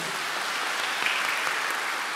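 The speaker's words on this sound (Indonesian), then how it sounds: "Berikan tepuk tangan untuk dia." A church congregation at a worship service applauds, a dense, even wash of many hands clapping at once, steady and sustained, with no voices over it.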